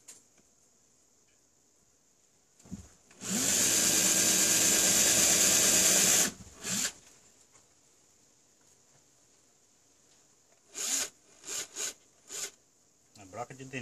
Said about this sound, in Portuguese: A broca de dentista não funciona muito bem não